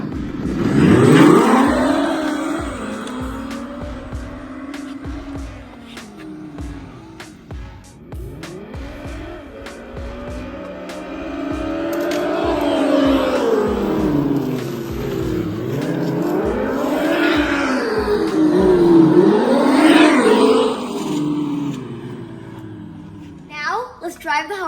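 A Segway Ninebot Gokart Pro and a Halo Rover X are driven, with electric motor whine rising and falling through repeated accelerations, some tire scuffing and a steady rhythmic clatter, while a person talks throughout.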